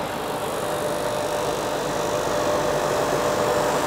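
An electric motor on a training-panel installation runs forward, a steady, continuous hum with even mechanical vibration close by and no voices.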